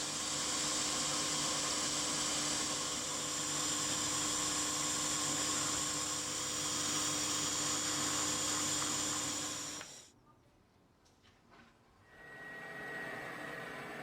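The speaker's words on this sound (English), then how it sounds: "It's then onto the milling machine to drill through for the cranked handle." A milling machine drills through a metal collar with a high, sustained whine, then stops abruptly, leaving a short quiet stretch before a faint hum resumes.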